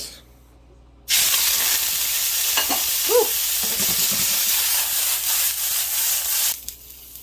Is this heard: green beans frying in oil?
yes